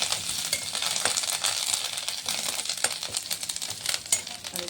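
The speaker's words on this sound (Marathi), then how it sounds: "तर छान जिरं मोहरी तळती बघा" Cumin and mustard seeds with curry leaves frying in a pan for chivda, a close, busy sizzle full of sharp popping and crackling that stays dense throughout.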